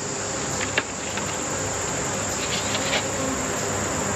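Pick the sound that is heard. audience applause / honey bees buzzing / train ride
honey bees buzzing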